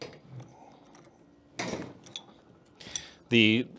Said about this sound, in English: little custom spanner for adjusting your preload gets this cap loose right here